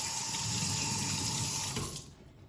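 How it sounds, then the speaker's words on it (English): Hands rinsed under a running kitchen tap: a close, steady rush of water that runs evenly, then tapers off as the flow is shut. "I'm just gonna rinse my hands real quick."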